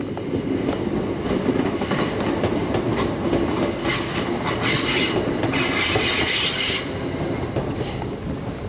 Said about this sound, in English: There's a train there that's just pulling away now